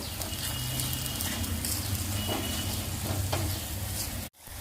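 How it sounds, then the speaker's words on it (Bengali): Potatoes sautéing in a pan with black pepper, cumin and coriander powder, a steady close sizzle and frying hiss with soft scraping stirs throughout, ending in a brief cutoff. "আলুটা মশলার সাথে কষানো হয়ে গেছে"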